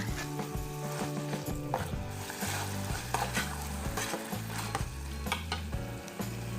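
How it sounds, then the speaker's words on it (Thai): Pork stir-fried with green curry paste in a hot pan for green curry: a continuous close sizzle, with rhythmic spatula scrapes and clacks against the metal throughout, no talking. "ผัดไปสักครู่ให้เนื้อหมูเกือบสุก และก็เครื่องแกงเข้ากันดีนะคะ"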